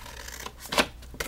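Paper is trimmed for a craft jam jar bag with a quick snip or two, a short crisp cut standing out from faint rustling handling noise, close and quiet.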